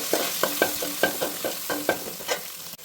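Ginger frying in oil for a pineapple pickle: a low steady sizzle under a regular series of clicking stirs, about seven in a row at an even pace, then a sharp knock at the end.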